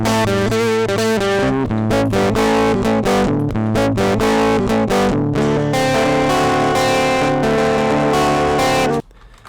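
Distorted electric guitar played direct through a Kultrumm 1566a tube preamp, a busy riff with a thin, buzzy, fizzy tone, loud and steady, then cutting off abruptly near the end.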